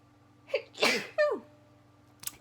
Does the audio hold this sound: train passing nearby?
no